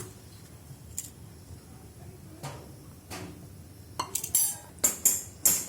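Vegetables go into a pan while cooking soya chilli: quiet scrapes first, then a cluster of sharp metallic clinks and clatters near the end, close and fairly soft.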